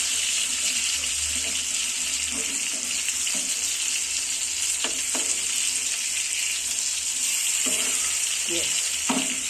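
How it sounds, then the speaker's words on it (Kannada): Bangada (mackerel) fish fries in a pan with a steady loud hiss and sizzle throughout, with occasional soft clatters of handling close by. "ಸೊ ಇದೊಂದು 5 ಮಿನಿಟ್ಸ್ ಈ ಕಡೆ ಬೇಲಿ"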